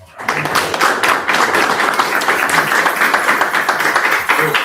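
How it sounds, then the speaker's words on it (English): A room of networking attendees applauds a guest speaker, with clapping that starts abruptly after a short quiet moment and carries on steady and fairly loud, the individual claps close and distinct. "Let's give Felipe a round of applause."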